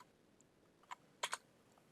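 A few faint keystrokes on a computer keyboard, a single tap followed by a quick pair of sharper clicks, in an otherwise quiet room.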